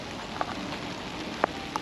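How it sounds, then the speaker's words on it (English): Rain falls steadily outdoors as a constant hiss, with a few sharper drops tapping nearby. "Now it's starting to rain."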